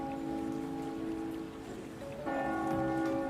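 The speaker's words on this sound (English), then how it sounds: "Sounds like the bell's chiming 3 o'clock." A bell in the Trails of Cold Steel video game chimes the hour of three, with steady sustained tones ringing over a soft rain-like background hiss.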